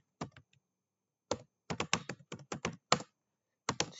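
Computer keyboard typing while entering router default gateway IP settings, short bursts of crisp close keystrokes separated by brief pauses, with no speech.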